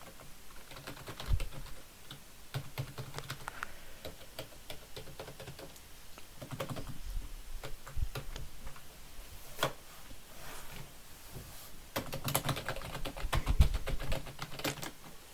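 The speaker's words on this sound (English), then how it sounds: "there was some cheeky ASMR for you to hear the buttons of this keyboard" Keys on a Corsair gaming keyboard are typed on in quick, uneven bursts of close clicks and clacks, with short pauses between runs, heard alone at a fairly quiet level.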